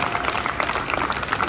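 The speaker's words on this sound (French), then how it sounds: "vous pouvez les applaudir à nouveau, ceux qui ont participé ce soir" Audience at a mentalism show in the Zénith arena in Strasbourg applauding, a dense, steady wash of many hands clapping at moderate level without pause.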